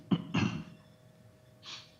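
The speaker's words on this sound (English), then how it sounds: "The more I talk, the more I cough." Someone coughs twice in quick succession at a county commission meeting, two close, fairly loud bursts, followed after a pause by a softer breathy exhale.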